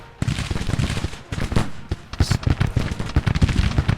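Dense, rapid crackle of massed musket volleys and canister blasts in a Grand Tactician: The Civil War battle, overlapping bursts close and loud with no letup and no talking.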